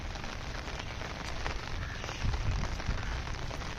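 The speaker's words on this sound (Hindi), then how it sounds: "बारिश लगातार बढ़ रही है।" Heavy monsoon rain pours down on a muddy, waterlogged path, a loud continuous hiss of drops with heavier spattering bursts toward the end.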